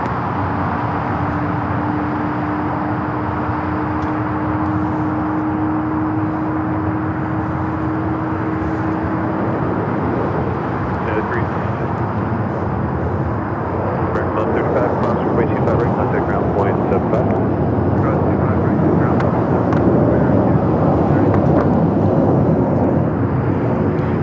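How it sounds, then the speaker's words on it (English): A United Airlines Airbus A321neo takes off at LAX, its jet engines giving a loud, steady roar with a rising whine that swells and broadens as it powers down the runway, with a voice over it. "This is United Airlines 360 taking off to Denver on the A321neo."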